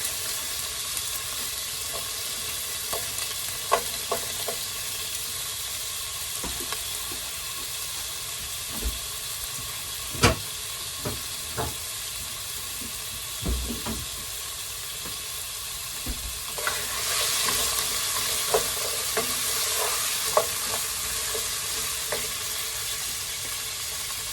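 Carrots frying in oil in a pan, a steady sizzle and hiss with occasional sharp clicks and scrapes of stirring, getting louder and busier toward the end as the frying intensifies.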